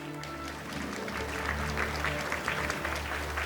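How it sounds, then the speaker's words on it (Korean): Applause from a large conference audience at the opening ceremony of an international meeting on intangible cultural heritage, a broad steady patter of many hands over a low hum that swells slightly midway. "다시 한번 큰 박수 주시기 바랍니다"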